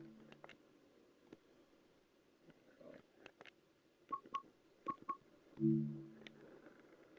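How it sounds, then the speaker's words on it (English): Short game notification alert sounds from the Train Sim World 5 railway simulator: a sparse series of quiet beeps and soft tonal chimes, several brief pings spaced apart with a slightly longer tone near the end, faint and without talk. "Game sound effects."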